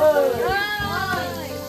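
A cat gives a loud, close, drawn-out meow that wavers in pitch, then tails off.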